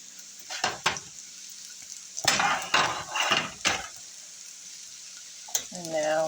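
Six plain slices frying in a pan at home, soft sizzling with several clattering bursts of utensils and pan handling, close, plus a brief voice at the end.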